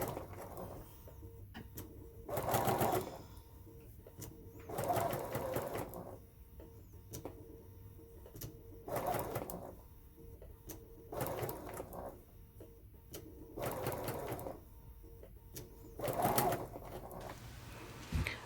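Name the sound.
sewing machine stitching skirt pocket seam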